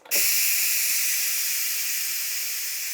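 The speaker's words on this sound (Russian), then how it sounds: "Пар сбрасываем до тех пор, пока клапан не упадет вниз." Steam rushes out of the release valve on a Moulinex CE222D32 multicooker after cooking, a sudden loud, steady hiss that starts abruptly and holds with barely any change.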